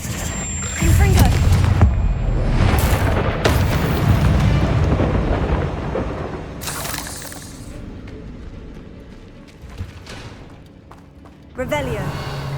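Blasts of the Confringo fire spell in Hogwarts Legacy: loud booming explosions with crackling debris, the first heavy and sustained, then fading, with a sharp burst near the end and a voice speaking over parts.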